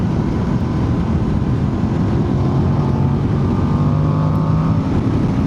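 Engine of a Voge DS800 X Rally adventure motorcycle under acceleration, a loud, steady, dense drone with a slowly rising pitch, recorded close up with heavy wind rush and no talk.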